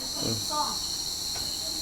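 Cricket chirping steadily and close, a continuous high-pitched trill running through the whole stretch, with faint low murmurs of people in the background.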